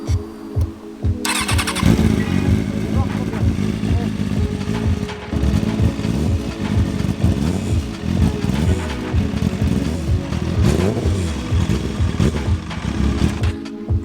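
A motorcycle engine with an unknown fault cranks and sputters repeatedly in uneven bursts, close and loud, without settling into a steady idle.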